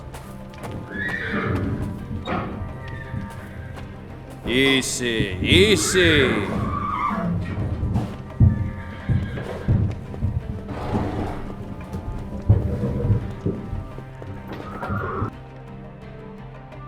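Horses in the video game Secret Files 3 whinny and neigh several times over steady clip-clopping hooves nearby, with a voice calling out over them.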